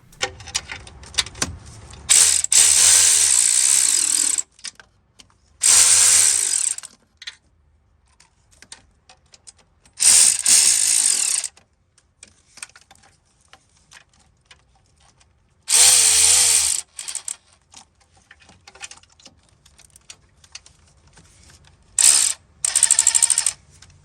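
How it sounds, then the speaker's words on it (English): Cordless ratchet drawing in the exhaust manifold bolts on a Chevy Suburban V8 (LS 4.8/5.3), whirring in five short loud bursts separated by quiet pauses with faint clinks. "I'm only using the cordless ratchet to just draw the bolts in some."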